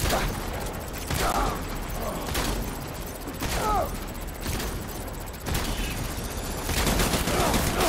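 Gunfire in the Death Stranding video game, with a dense, continuous stream of loud shots and mechanical clatter filling the whole stretch, a voice occasionally heard underneath the barrage.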